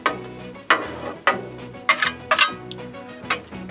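A candied banana and pecan mixture pushed across a Blackstone griddle to its warm side, a series of sharp metal spatula scrapes and clacks over a low sizzle, close up.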